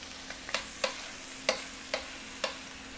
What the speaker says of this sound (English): I'm gonna put these breasts here to saute